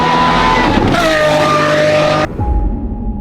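A Lamborghini SVJ race car roars loud and close as it drives a lap on track, the engine note shifting pitch before cutting off sharply, leaving quieter rumble and a lingering tone.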